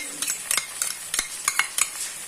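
Chicken fries with a peanut and tomato paste for Assamese-style chicken curry, a close bright sizzle broken by repeated scraping stirs of a utensil against the pan in quick bursts.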